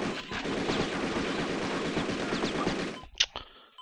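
Dense, rapid bursts of gunfire in the 1997 PC game CodeName: Tenka, continuous automatic volleys ending abruptly, followed by a couple of sharp isolated shots.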